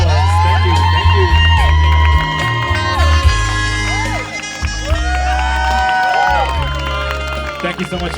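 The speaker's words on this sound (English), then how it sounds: "please give them a big, big round of applause" Wedding guests at a San Diego reception cheer and clap after a couple's special dance, a steady crowd roar with whoops and shouts mixed with music and voices throughout.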